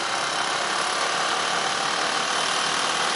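A Suzuki Djebel 200 air-cooled single-cylinder motorcycle engine runs steadily up close on a forest trail ride, a continuous broadband drone with no pauses and no voices.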